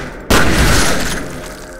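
An enemy blowing apart in the shooter F.E.A.R.: a sudden loud blast after a quiet moment, its broad roar slowly fading over more than a second, with no voices.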